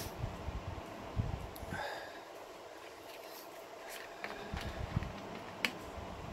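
A person sniffles a few times through the nose, short close breathy snorts spaced irregularly over steady low room hum, with no talking.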